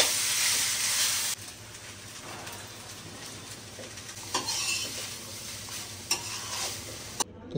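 Onions and green chillies fry in a pan with a continuous crackling sizzle, loud at first and then lower, broken by several sharp stirring scrapes against the pan, close up with no talking.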